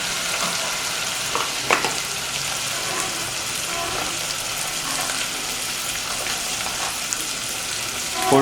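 Spices, including coriander powder, sizzle steadily in a hot pan for beef curry with chana dal while being stirred, giving a continuous close frying hiss with occasional scraping clinks.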